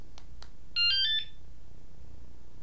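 An add-on alarm fitted to a Honda Trail 125 motorcycle arms with a brief burst of bright electronic chirping tones, preceded by two faint clicks, against a quiet background.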